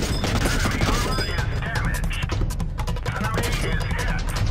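Tank cannons and guns fire in a World of Tanks Blitz battle. Loud, continuous bursts of gunfire and explosions overlap with game sounds throughout.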